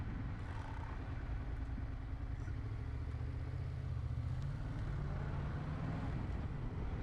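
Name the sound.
motorcycle engine while riding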